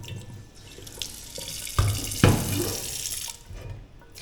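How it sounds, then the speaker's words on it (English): Tap water runs into a pot as rice is rinsed in a Jamaican kitchen, a steady close splashing and gurgling with a couple of louder sloshes midway. "So I get a little pot to wash over. Yeah, right to rinse the rice"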